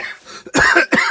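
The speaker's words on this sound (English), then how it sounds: "Sorry, I'm coughing." A person coughs twice in quick succession, loud and close, with a quieter breath just before.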